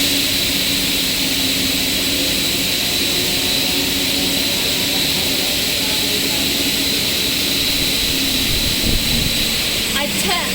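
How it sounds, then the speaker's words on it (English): A straight line wire drawing machine runs with a continuous loud droning hum and steady tonal whine, holding a fairly even level throughout. "the machine has gradually accelerated the speed that we set on the top screen"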